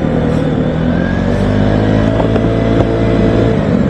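Vespa Sprint scooter riding on the road at night, a steady loud engine drone with constant wind rush and no speech, holding one even level throughout.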